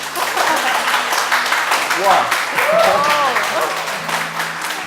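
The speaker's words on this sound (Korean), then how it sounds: "못 듣던 박수 소리를 들어보네요" Studio audience applause, a dense patter of clapping running throughout, with voices exclaiming and talking over it.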